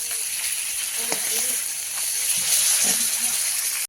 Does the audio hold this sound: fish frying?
yes